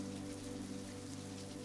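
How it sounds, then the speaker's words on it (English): Heavy storm rain pours onto streets and surfaces in wind-whipped Dumbo at night, a dense steady roar of drops with a low constant hum beneath it, no voices. "the rain continues to fall heavier by the hour as the winds whip through the streets of Dumbo"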